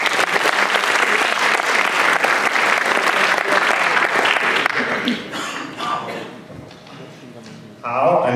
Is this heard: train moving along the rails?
no